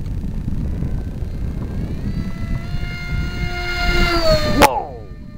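An RC delta wing plane's motor whines in a steady high tone that rises in pitch as it opens to full throttle, then cuts off sharply near the end, with wind noise throughout.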